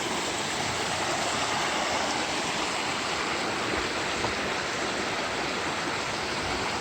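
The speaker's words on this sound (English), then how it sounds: "Beautiful creek for this elevation." Flat Laurel Creek in Pisgah National Forest, North Carolina, flows over rocks at a trail crossing, giving a steady, close, full rushing wash of water that never lets up.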